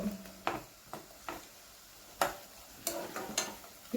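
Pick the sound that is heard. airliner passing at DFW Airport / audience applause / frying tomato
frying tomato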